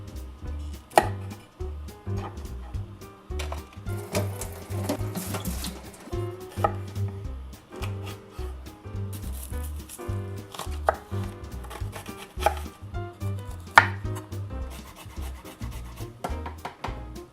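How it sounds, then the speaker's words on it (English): A knife chops broccoli on a cutting board in irregular bursts of close, crisp thuds and taps, with brief pauses between runs, no talking. "I'm just going to chop up a couple of these and see what that gets us"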